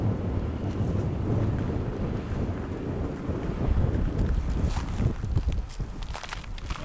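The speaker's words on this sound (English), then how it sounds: "I don't know if you guys can hear because it's really windy out" Strong wind buffets the microphone outdoors on open salty soil flats, a steady loud roar with gusts and faint footsteps, no voices.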